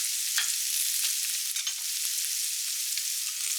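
Komatsuna stems stir-frying in a pan, a steady close hiss of sizzling oil broken by scattered crackles and soft scraping as the greens are stirred, with no voices.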